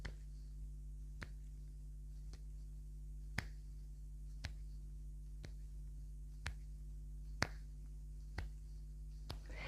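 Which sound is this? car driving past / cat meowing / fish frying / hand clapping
hand clapping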